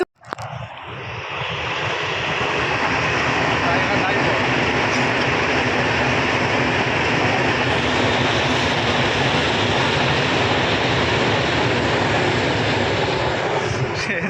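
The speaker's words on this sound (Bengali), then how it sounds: "এখন যাবে ট্রেন ট্রেন" A train passes near a mustard field in the late afternoon. A loud, steady, broad rumble with rattling swells up within the first second and holds strong until the end.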